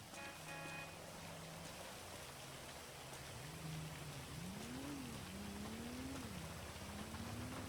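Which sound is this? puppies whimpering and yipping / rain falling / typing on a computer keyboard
rain falling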